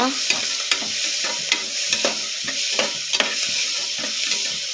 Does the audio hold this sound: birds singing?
no